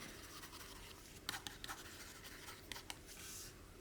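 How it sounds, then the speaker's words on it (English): A stylus writing on the textured screen of a reMarkable Paper Pro with a Marker Plus, faint close scratchy strokes with a few sharper ticks as the tip moves in short, uneven bursts. "it makes a subtle but satisfying scratchy sound when you write, almost like pencil on index cards"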